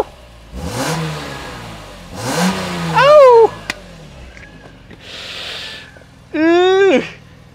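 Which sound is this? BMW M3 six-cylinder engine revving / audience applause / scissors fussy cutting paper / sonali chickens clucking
BMW M3 six-cylinder engine revving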